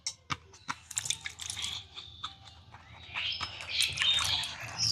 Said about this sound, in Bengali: আমের গাগুলো এখনই ভালো করে জলে ধুয়ে পরিষ্কার করে নিতে হবে